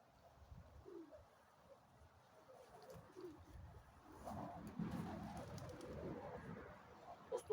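Soft, low pigeon coos repeat at a distance amid quiet outdoor background noise, growing slightly denser toward the end.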